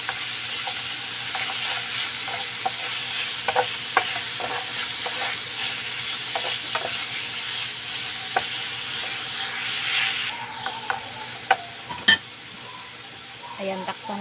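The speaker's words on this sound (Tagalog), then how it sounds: "Tapos, sunod natin ang ating chicken. Ayan. Haluin lamang natin mabuti." Chicken sizzles in a hot pan while being stirred for mung bean stew, a continuous frying hiss broken by scattered scrapes and clinks of the utensil against the pan, with a hiss of steam rising partway through.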